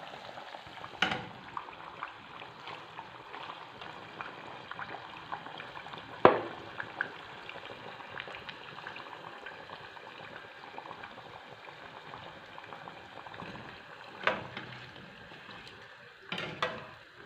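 Moroccan sfenj dough rings frying in a pan of hot oil, giving a soft, continuous bubbling sizzle close by, broken by a few brief clinks and knocks, with no one talking.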